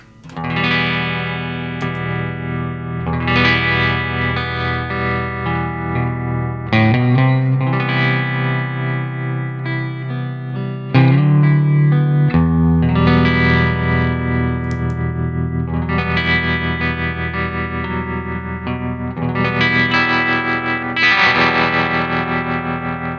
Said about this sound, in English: In loop 8 is the Rockett Effects Josh Smith Dual Trem, and this is what it sounds like